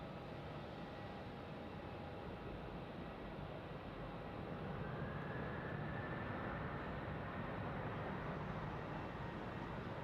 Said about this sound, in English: Nauru 737 currently on runway 34.